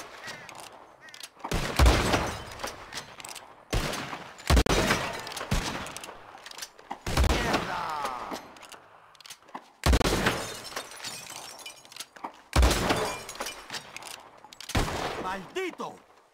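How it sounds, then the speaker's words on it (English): Gunshots crack in separate volleys in Red Dead Redemption 2 as glass bottles are shot and shatter, each loud report followed by breaking glass, with quieter game ambience in between. "Who can shoot the most bottles?"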